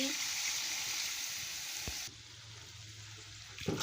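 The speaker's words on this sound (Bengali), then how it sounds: "আমি পরিমাণ মতন জলটা দিয়ে দিচ্ছি" Water poured into a poppy-seed cabbage curry with potatoes gives a brief hissing splash over a soft background sizzle, ending in a quieter low hum with a clink near the close.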